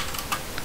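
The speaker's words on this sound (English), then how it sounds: "we'll type this" A few quick keystrokes on a computer keyboard typing a command in Ubuntu MATE 15.10, faint and clicky in a brief burst.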